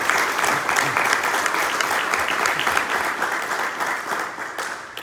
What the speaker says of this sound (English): So how about a round of applause for those?